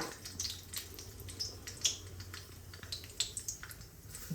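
Mustard seeds sizzling and popping in hot oil for tomato chutney tempering, a quiet crackle of scattered sharp pops and ticks over a faint hiss.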